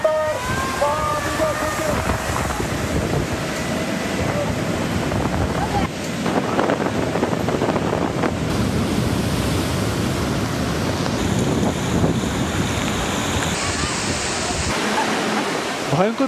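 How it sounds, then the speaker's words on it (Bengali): Big sea waves driven by Cyclone Remal pound the Bangladesh coast in a continuous, loud roar, mixed with heavy wind buffeting against the microphone that surges and eases over the whole stretch. "গর্জন তুলে হুঙ্কার দিচ্ছে বড় বড় ঢেউ"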